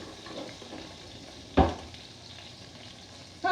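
Bell pepper, onion, celery and garlic cook in a pan with a soft, low sizzle and stirring, broken by a sharp clack of a utensil or pan and another knock near the end.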